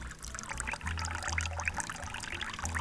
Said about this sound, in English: So give it a really good wash in a strainer.